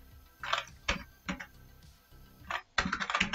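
Computer keyboard typing in scattered bursts of a few close, light key clicks with short pauses between, faint and without talk.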